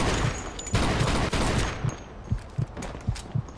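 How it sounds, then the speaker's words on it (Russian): Bursts of automatic Thompson submachine gun fire in the gangster game Mafia 2, several rapid volleys rattling in quick succession, with sharp repeated shots toward the end. "Автомат."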